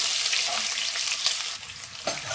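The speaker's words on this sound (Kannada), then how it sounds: "ಈಗ ಇದಕ್ಕೆ ಒಂದು 2 ಈರುಳ್ಳಿನ ಕಟ್ ಮಾಡಿ ಸೇರಿಸ್ಕೊತಾ ಇದ್ದೀನಿ" Two chopped onions frying in oil with mustard seeds, cumin and curry leaves for an Andhra-style curry, a loud dense hiss of sizzling with a few soft scrapes and a clink near the end.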